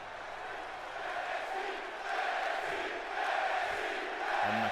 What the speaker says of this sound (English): And the crowd are loving what they're seeing.